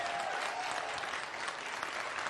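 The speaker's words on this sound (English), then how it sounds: "give him a round of applause" An audience breaks into applause for a guest, a steady wash of many hands clapping at moderate distance, continuous and fairly quiet, with no talking.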